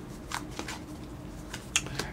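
Tarot cards being shuffled by hand, a few quiet papery riffles and soft slaps in short bursts, close and faint with no talk.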